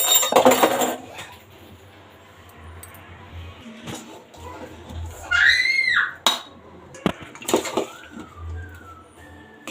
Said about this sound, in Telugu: మొత్తం అంతా ఒకసారి బాగా కలిపేసుకుందాము